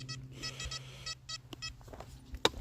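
Metal detector sounding over scrap iron in a field, a series of short, raspy electronic beeps in irregular bursts with small clicks and rustles between them.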